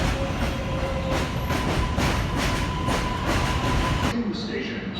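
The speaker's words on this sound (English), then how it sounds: "here in the middle of Brooklyn comes an L train that's running elevated" An elevated L train pulls into a station in Brooklyn, New York City, its wheels clattering loud and close with a faint squeal and a sustained tone, before the noise cuts away abruptly near the end.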